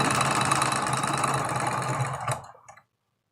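A sewing machine stitches a tulip quilt block at a steady, close, motor-driven hum with a fast rhythmic whir, running evenly for over two seconds before winding down and stopping into silence.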